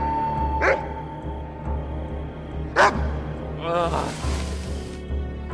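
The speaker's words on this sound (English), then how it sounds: "Will someone please keep those dogs quiet?" Dogs bark in a few sharp, separate bursts over a low, steady background hum, with voices heard around them.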